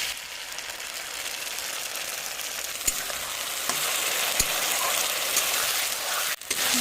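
Spice paste with crushed garlic and chuijhal fries in a pan for chicken curry, a steady close sizzle with scattered stirring scrapes and a couple of sharp clicks from the utensil.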